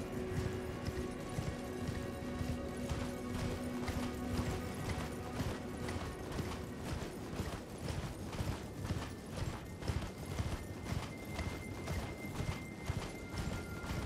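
Horse hooves clip-clop in a steady galloping rhythm across a snowfield in Elden Ring, close and continuous under ambient game music with sustained tones.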